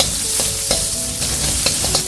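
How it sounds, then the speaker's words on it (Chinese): Pork belly slices render over medium-low heat in a wok, giving a steady close sizzle broken by regular scraping stirs of a spatula, with no voices. "加入五花肉，先要保持中小火，把五花肉里的水分煸透，煸出油脂，煸出香味儿"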